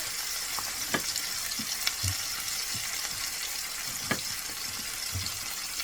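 Chicken and vegetables fry in a pot, a constant close sizzle broken by intermittent scrapes and clinks of stirring to brown them.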